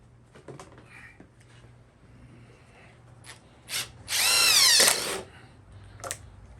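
Power drill driving a 2-inch screw into recycled wood for a bicycle rack, a short whirring burst rising in pitch for about a second, preceded by a brief trigger blip and quiet handling knocks.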